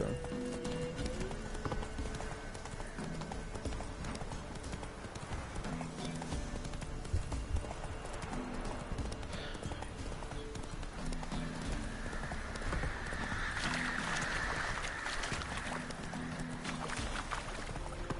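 Horse hooves pounding at a gallop in The Witcher 3 video game, a fast continuous clip-clop rhythm under game music and ambience, with a high whine rising near the end.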